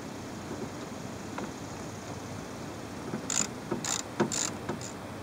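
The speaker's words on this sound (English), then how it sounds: "So next step is going to be taking off the bolts." A ratchet turning fan clutch bolts under a vehicle's hood, giving a few quick, faint clicking bursts toward the end over quiet background noise, with no speech.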